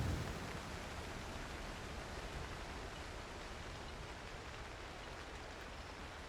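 Steady rain falls in the video game Cairn, a soft, even wash of broadband hiss with no distinct drops or pauses, continuous and faint throughout.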